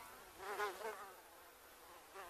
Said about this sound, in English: one small pool can harbour thousands of mosquitoes